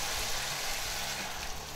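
Two 14.5-ounce cans of diced tomatoes go into a hot pot already seasoned with ground cumin and ancho chili powder for a Texas Frito pie, giving a loud, steady hiss of sizzling liquid close by.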